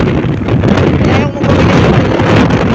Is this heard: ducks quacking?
no